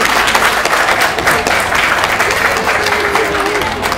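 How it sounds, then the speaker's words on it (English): Audience applause at a company's 100-year celebration for Bucher Hydraulics, a steady, dense wash of clapping from a large crowd that fills the whole stretch at full strength, with faint voices mixed underneath. "So let's give them a big round of applause."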